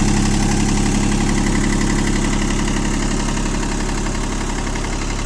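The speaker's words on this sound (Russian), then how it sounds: "Трехцилиндровый у нас здесь двигатель." The three-cylinder engine of a Kubota L120 mini tractor idles loudly and steadily up close, with a rough, rhythmic chugging throb that holds constant throughout.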